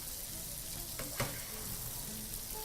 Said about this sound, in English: Proceed to pour your oil over the fish.